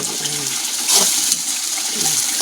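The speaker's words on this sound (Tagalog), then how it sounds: "Lagyan pa natin ng tubig." Water poured into a cooking pot for a quick, simple home-cooked dish, a short splashing gush close by with faint kitchen clatter and no talking.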